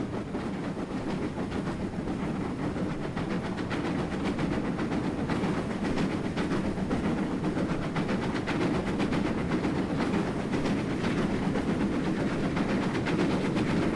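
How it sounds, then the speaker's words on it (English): A long steam train hauled by a Castle class locomotive in a video game rolls past steadily, with rhythmic clattering of wheels over rail joints and a dense mechanical rumble throughout, no voices. "Pretty long train for a steam engine right there."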